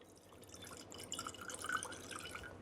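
Vodka being poured into a cocktail shaker, a short quiet trickle of liquid that swells briefly in the middle and then eases off, heard alone with no talk.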